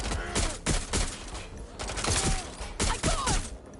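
Rapid bursts of gunfire in a Watch Dogs Legion firefight, loud sharp cracks fired in quick clusters with short gaps between, close up and dominating the scene.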